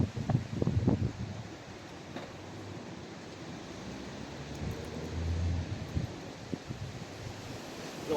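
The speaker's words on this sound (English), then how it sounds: "it's windy as anything as well" Strong wind outdoors during a stormy skateboarding session, a continuous rough rumble of wind buffeting the microphone with a few louder gusts and thumps, no talking.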